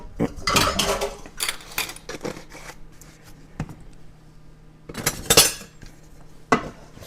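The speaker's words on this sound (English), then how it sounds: "Just go ahead and keep mixing it around till everything dissolves." A metal spoon clinks and scrapes against a pot of simmering pickling liquid for beets in irregular bursts, with quiet pauses between stirs; no voices.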